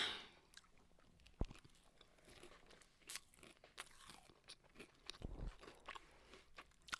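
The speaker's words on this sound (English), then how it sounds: "I'm sure your fans are enjoying us chewing." Close, quiet crunching and chewing of Costco banana bread with a nut topping, with irregular bites and soft mouth sounds and no talking.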